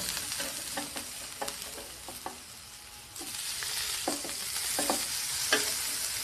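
Homemade burger patty frying in a pan, a steady close sizzle with repeated sharp spatters and taps of a spatula, growing slightly louder partway through, no talking.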